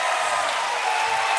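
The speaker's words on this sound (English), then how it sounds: "I'm not sure if you can hear the crowd through the microphone there, but they went absolutely nuts." Spectators at a strongman competition roar and applaud in a dense, continuous wash of crowd noise, loud and steady over a short stretch.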